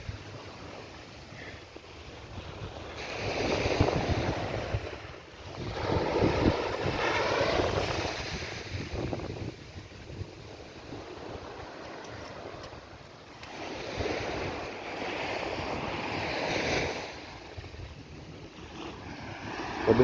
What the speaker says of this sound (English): So this is all Brighton Beach now